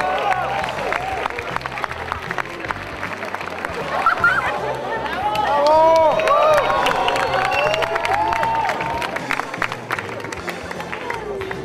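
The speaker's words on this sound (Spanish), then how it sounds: "Un aplauso, por favor" At a Super Mario Galaxy 2 presentation event, a crowd applauds and cheers amid chatter, with voices and whoops rising and falling over steady clapping throughout.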